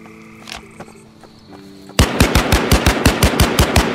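Gunfire in a battle royale video game (H1Z1/PUBG): a few scattered distant shots, then a loud rapid burst of about a dozen automatic rounds fired close by in quick succession, with no talking.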